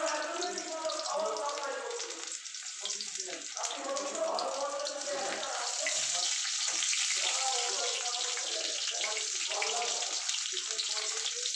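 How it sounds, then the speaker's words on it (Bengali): Potatoes fry in oil for a poppy-seed chicken dish, making a steady, moderately loud bubbling sizzle that runs throughout with bursts of crackle. "এবার আলুটা ভাজবো, আলুটা ছেড়ে দিলাম, আলুটা ভাজা হোক।"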